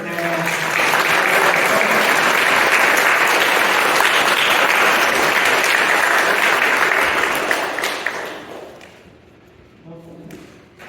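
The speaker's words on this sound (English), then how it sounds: "please a round of applause for our entire panel." Sustained applause from an evening poetry festival audience thanking a panel, dense clapping with some cheers and thumps for about eight seconds before tapering off into scattered claps and murmuring.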